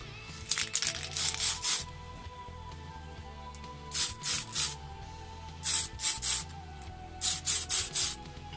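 An aerosol can hisses red paint onto a Tamiya Ford Escort model body in short, close bursts, several spaced sprays separated by brief quiet gaps.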